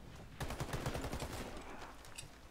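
Rapid gunfire in the shooter game Warface, a burst of quick repeated shots with a sharp onset that rattles for about a second and then tails off into fainter echoing reports, fairly quiet overall.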